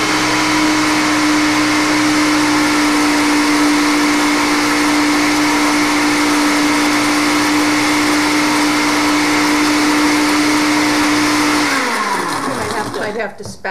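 Food processor motor whirring steadily and loudly as olive oil is drizzled in, a constant high hum for about twelve seconds before it winds down and stops near the end, with voices faintly present.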